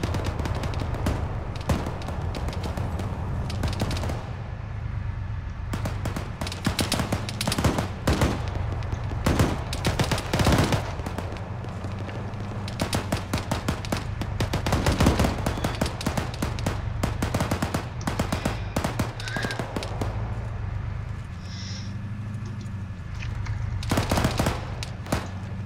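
Dense automatic and single gunfire from an ArmA 3 battle, loud and nearly continuous with sharp bursts throughout, a low rumble underneath and no talk.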